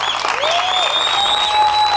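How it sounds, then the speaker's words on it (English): A studio audience applauds to welcome a guest judge on a televised leadership show, a steady, dense burst of clapping that fills the whole moment with no talk over it. "Let's all give her a round of applause."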